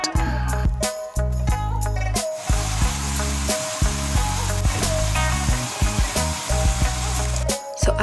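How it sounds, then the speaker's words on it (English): Baby shrimp cooking in a pan of pasta sauce for shrimp tagliatelle, a loud sizzle broken by clanking stirs and utensil knocks against the pan, with no voices. "I'm adding my shrimp. This is very baby shrimp, but you can use bigger shrimp, and you're just gonna mix it together."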